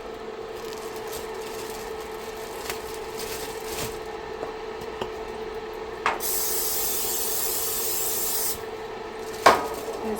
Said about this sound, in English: scrape my pan down with some olive oil, non-stick spray